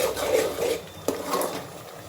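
Mutton paya being sautéed in a pan with salt, chili powder, turmeric and asafoetida, a steady close scraping and stirring rasp of utensil against the pan with a brief clink midway, no voices.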